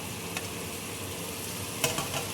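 Onion, ginger, garlic and green chili frying in a pan, a steady soft sizzle throughout with a couple of light utensil clicks near the end, no voices.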